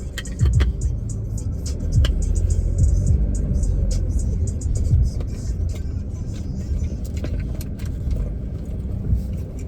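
Car rolling slowly through a parking area, a low, steady engine rumble close by with small rattles and knocks, and faint voices mixed in.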